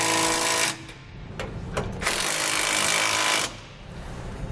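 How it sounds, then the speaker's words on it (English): A power tool on an 18 millimeter socket drives hardware into the perch of TorkLift tie downs on a 2016 Chevrolet Silverado 2500. Two long, loud whirring bursts are separated by a few short pulses, heard up close. "We can now go back and tighten down all of our hardware."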